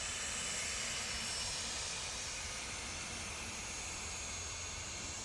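Cessna Citation business jet at Manchester Airport, a steady broadband jet roar and hiss, fairly distant and unbroken throughout.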